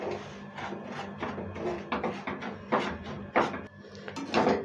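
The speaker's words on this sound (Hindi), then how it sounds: "तो पहले हम इतने घी में सूजी को अच्छे से भूनेंगे।" Semolina roasting in ghee over a low flame, stirred in a pan, makes soft uneven scraping and rubbing strokes, close up and fairly quiet.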